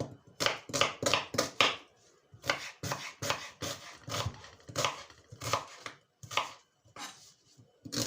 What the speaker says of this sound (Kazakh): Ең алдымен барлық көкөністерімізді жақсылап турап аламыз. Пияздан бастайық.